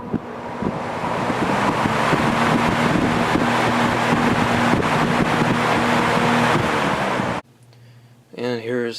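A first-generation Lakewood HV fan runs at high speed, giving a loud, steady whoosh with a constant motor hum that cuts off abruptly near the end, followed by brief talk.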